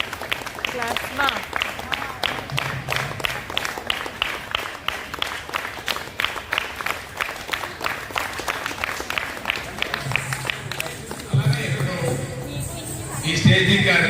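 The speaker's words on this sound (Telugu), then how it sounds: "క్లాప్స్ మా." An audience at a classical dance performance in Vinayaka Mandapam applauds in a sustained, dense burst of clapping. The claps are close and even throughout, and a few voices rise from the crowd near the end.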